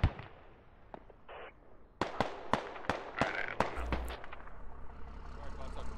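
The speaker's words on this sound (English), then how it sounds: "Bulldog is shooting friendlies." Gunfire in the military video game SquadOps: a string of sharp shots cracks out at irregular intervals over a low ambient rumble, some near and loud, others more distant.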